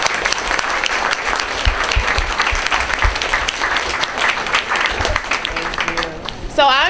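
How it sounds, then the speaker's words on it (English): An audience at an art show breaks into sustained applause, dense and even, with a voice briefly audible near the end as the clapping fades. "Let's give everybody yourself a round of applause."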